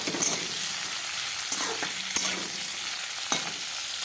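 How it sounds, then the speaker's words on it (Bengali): Potato and cauliflower pieces frying in hot oil give a steady, hissing sizzle with occasional sharp clicks and stirring knocks, close and moderately quiet with no talk. "তারপর আলুটা একটু ভেজে নেব।"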